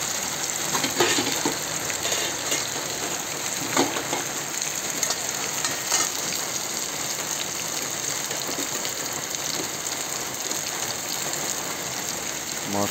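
Soy meat fries with spices in a pan, giving a dense, steady crackling sizzle like rain throughout, with occasional brighter pops.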